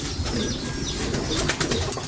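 Racing pigeons coming in to land after a race released from Pangasinan, with soft wing flaps and fluttering among outdoor hiss and faint bird noise, a few brighter flapping bursts near the end.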